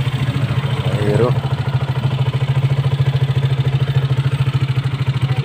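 Motorcycle engine idling with a broken, detached exhaust, a loud close rhythmic low putter with rattly pulsing that runs steadily throughout, while someone talks briefly near the start.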